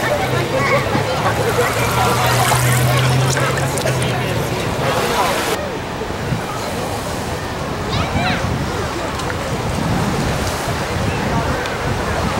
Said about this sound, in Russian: Очень нежный, приветливый океан сегодня.